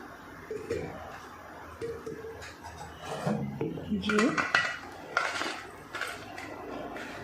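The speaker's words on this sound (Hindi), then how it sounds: "इसके अंदर मैं अपने धीरे धीरे सारे प्याज को डालकर" Peeled onions go into a storage box in a home kitchen, giving soft hollow thuds and light clatter against the container, several irregular knocks close by with faint background murmur.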